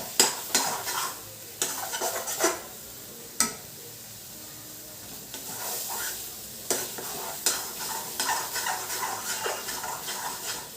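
Food being dry-roasted in a pan, a continuous sizzle under frequent scraping strokes and clinks of a utensil against the metal as it is stirred, close up and with no talking.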